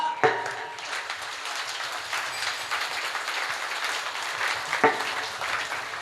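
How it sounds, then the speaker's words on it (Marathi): Audience clapping at a Marathi kirtan led by a young kirtankar, a dense, steady wash of applause from a crowd with two sharper bursts near the start and end, no voices over it. "तुमच्याकडे जेवढी ताकद असेल तेवढ्या ताकदीने खणखणीत टाळी वाजवा सगळ्यांनी."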